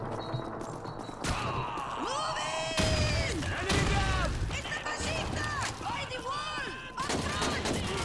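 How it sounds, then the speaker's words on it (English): Tokarev rifle gunfire in the Call of Duty 2 Soviet campaign, loud shots over dense battle noise with other weapons and explosions, and game voices shouting throughout. "Yeah, this rifle works really well."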